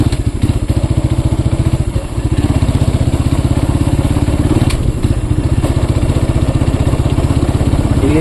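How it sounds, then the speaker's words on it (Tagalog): Small motorcycle engine running steadily at low speed, carefully ridden while nearly out of fuel, a loud close, even pulsing chug that continues for the whole stretch with a few faint knocks and no talking. "hindi na kasi masyadong pinatatakbo tong motor na to kasi wala tayong pantubil"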